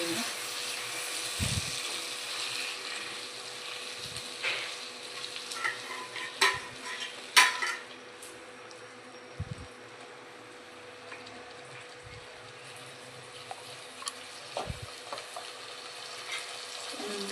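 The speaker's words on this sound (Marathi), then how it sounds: "त्यानंतर यामध्ये आपण टाकणार आहोत टोमॅटोची प्युरी" Tomato puree hits a hot pan for a spicy potato curry, a soft continuous sizzle with occasional scraping stirs and clinks, faint and close, while a voice talks over parts of it.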